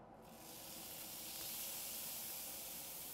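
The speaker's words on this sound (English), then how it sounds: "you should have a sizzle like that when you drop the duck in the pan" Duck breast laid skin side down in a hot pan sizzles as a steady, loud, broadband hiss that swells quickly and holds evenly throughout, with no talking over it.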